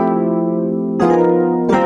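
Full sustained gospel piano chords ring out, played alone as a held chord changes to a new voicing about halfway through and shifts again near the end, loud and close.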